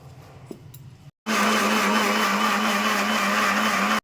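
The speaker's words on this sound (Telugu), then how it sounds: "మిక్సీ చేసుకోవాలి." A short pause, then a mixer grinder blending ginger, garlic, onions and tomatoes into masala paste starts with a loud, steady whirring drone that runs continuously to the end.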